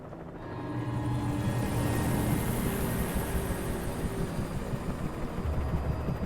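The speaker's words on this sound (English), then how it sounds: "It's a darkness helicopter." Helicopter in the video game Alan Wake Remastered, a steady dense rotor and engine roar that swells in after a quiet start and holds loud and continuous.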